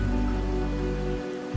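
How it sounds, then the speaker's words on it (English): Steady rainfall in a video game, a soft, even hiss of drops on surfaces under a quiet, sustained music bed, with no voices. "The rain's back."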